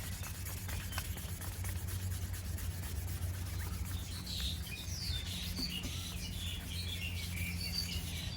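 Steady hand sanding on a car headlight lens, a continuous close rubbing scrape with even strokes, while birds chirp faintly in the background.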